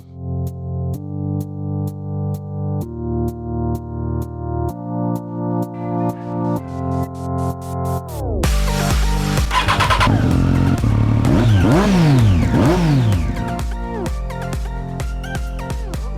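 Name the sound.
Harley Davidson Street Bob motorcycle engine running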